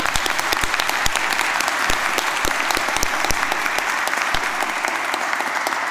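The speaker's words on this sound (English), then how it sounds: "can we give a round of applause to all our graduates so far?" A full room applauds graduates at a City College Dublin graduation ceremony, a dense, steady wash of many hands clapping with sharp individual claps standing out, sustained and loud throughout without speech.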